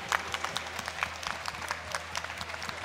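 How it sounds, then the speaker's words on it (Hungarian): At a Budapest cosplay contest results ceremony, a crowd claps steadily for the competitors, a dense even patter of many hands heard from the room with no talk. "egy nagy-nagy tapsot újra a versenyzőknek"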